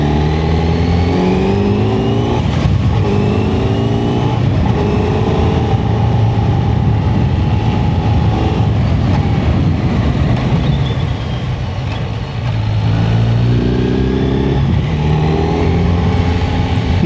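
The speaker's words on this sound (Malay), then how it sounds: "dia auto blipper sampai gear 3 daripada gear 6" A 2025 Kawasaki Z900 motorcycle on the Genting Highlands road downshifts from sixth to third gear with its auto-blipper, giving quick rev blips over a steady, loud, close engine drone.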